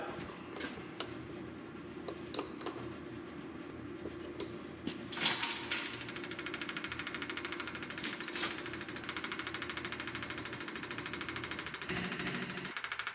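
An electric fuel pump clicks steadily while building pressure on a bone-stock junkyard small-block engine fitted with a supercharger; the rapid, even ticking runs continuously over a constant mechanical hum.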